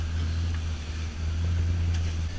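A Maserati Coupe engine idles steadily after starting, with a deep, constant low rumble and no voices.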